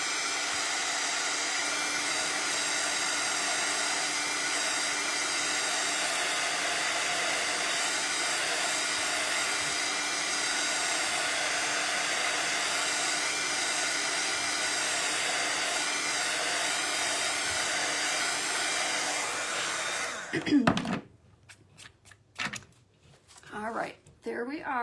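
Hair dryer blowing steadily for about twenty seconds to dry black paint on a craft door hanger, a constant close whooshing hum that then switches off, followed by faint handling noises.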